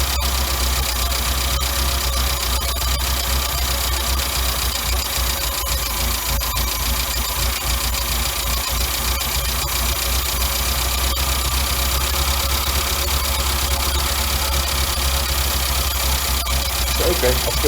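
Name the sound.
engine idling with Weber DCD carburetor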